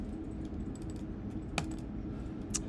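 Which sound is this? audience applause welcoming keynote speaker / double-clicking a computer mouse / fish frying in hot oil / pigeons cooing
double-clicking a computer mouse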